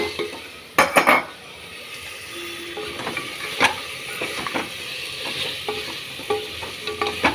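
Chopped pieces tumble into a pan and fry with a steady sizzle as a metal spoon scrapes and clinks against the pan in repeated close strokes.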